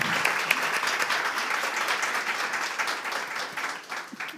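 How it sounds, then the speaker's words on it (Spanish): An audience breaks into sustained applause at a live political talk event, steady dense clapping that fades slightly toward the end. "Aplaudan."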